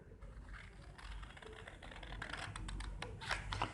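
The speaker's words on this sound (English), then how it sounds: "So now I cut it and show it to you." Scissors cut along the line of a paper blouse pattern, making faint, rapid crisp snips and rustles up close that grow slightly louder toward the end.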